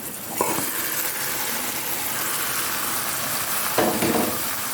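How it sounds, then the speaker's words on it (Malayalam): Chicken hits a hot pan with split green chillies, setting off a loud, steady sizzle with two sharp bursts of spitting and clattering. "ഇനി നമുക്ക് നമ്മളെടുത്ത് വെച്ചിരിക്കുന്ന ചിക്കൻ ചേർത്ത് കൊടുക്കാം"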